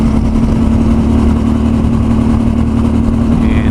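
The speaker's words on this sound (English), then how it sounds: "so the traffic's flowing pretty good now" A steady mid-pitched engine hum with constant road roar as a motorcycle cruises along in flowing freeway traffic in Fremont/Union City, California, loud and close throughout.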